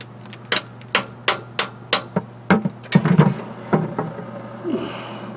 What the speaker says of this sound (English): I got a sharp tool here. I'll use that just to puncture a hole, and a hammer.